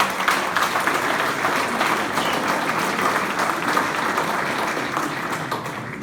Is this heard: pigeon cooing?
no